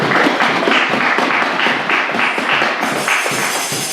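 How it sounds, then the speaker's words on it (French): A church congregation bursts into loud, close applause, a dense rhythmic patter of many hands clapping together with a few thumps, sustained for several seconds before easing slightly. "Acclamons l'Éternel, mes bien-aimés."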